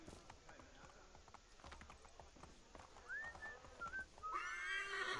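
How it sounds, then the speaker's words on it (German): A horse in Assassin's Creed III rears and lets out a loud, shrill whinny after a stretch of clip-clopping hooves and ambient game noise, the neigh rising sharply near the end. "Da kann ich das Pferd aufbäumen lassen"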